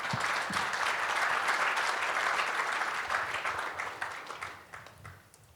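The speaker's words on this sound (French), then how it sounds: "je vous prie d'applaudir tous les panélistes présents" Conference attendees clap for the panelists in a full, steady burst of applause that holds for several seconds and then thins out into scattered final claps.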